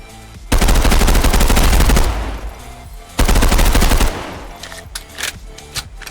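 Two loud full-auto bursts of rapid gunfire from a gun in the video game Contractors Showdown, each lasting about a second and a half, separated by a short pause and followed by a few faint trailing clicks.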